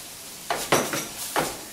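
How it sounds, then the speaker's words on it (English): Rice is tipped into a pan of sofrito for seafood paella and stirred, giving a soft sizzle with a few scraping strokes of a utensil over steady background hiss. "I'm going to add the rice into the pan."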